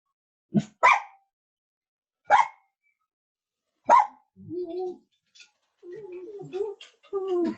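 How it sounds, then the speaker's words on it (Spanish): A dog barks in short sharp bursts, three or four separated by pauses, followed by lower whining and yelping sounds near the end. "está fuerte el perro"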